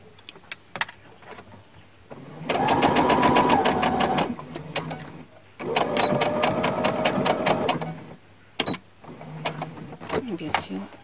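A sewing machine stitches the sleeve of a girl's nightgown in two loud, rapid mechanical runs of a few seconds each, separated by quieter handling clicks and rustling of fabric.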